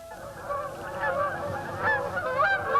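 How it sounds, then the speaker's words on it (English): A flock of geese honking, overlapping nasal calls rising and falling in a busy, continuous chorus, fairly close and clear with no talk over them. "she'd never heard or seen the geese that twice a year proclaim the revolving seasons"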